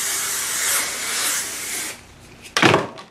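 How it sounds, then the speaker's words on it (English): Hairspray hisses out in one long continuous burst, then a brief pause and a short second spray, close by. "and then I spray my hair all over."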